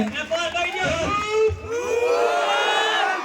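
Crowd cheering and whooping with excited babble at a village honouring ceremony for the popular Khajurbhai in Gundana, Gir, a loud continuous swell of voices with little clear clapping.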